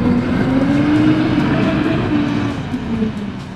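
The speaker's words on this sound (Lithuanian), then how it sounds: "dar viena mašina atvažiavo su" A vehicle pulls in to unload at a farm beside a freshly plowed field, its engine a loud, steady drone with a slowly gliding tone that eases off slightly toward the end.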